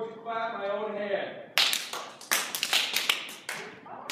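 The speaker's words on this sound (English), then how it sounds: "And then I'm going to clap my own hand." A performer in a stage combat workshop at Oakland High claps their own hand to fake a slap, several sharp, close pops in quick succession following a spoken line.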